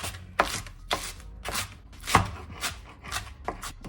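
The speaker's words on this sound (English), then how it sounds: "I think that I'm chopping it up on the board." Pickles and other sandwich ingredients being chopped with a knife on a cutting board for a chopped Italian sandwich, crisp close thuds repeating about every half second in a steady rhythm, with no talking.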